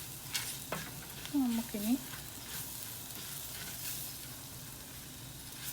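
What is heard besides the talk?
coriander frying in a clay pot for fish curry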